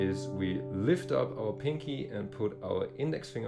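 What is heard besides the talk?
No everyday noise stands out behind the speech.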